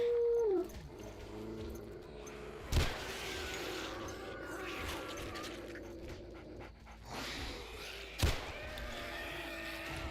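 Dogs howl and pant during a horde night in a survival video game, a rising and falling howl at the start, then panting and snarling with two sharp slams, mid-distance and moderately loud.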